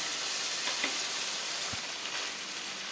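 Ginger garlic paste and softened tomatoes sizzle in a pan with a constant bright, hissing fry, close and even throughout, with a faint stir or tap midway.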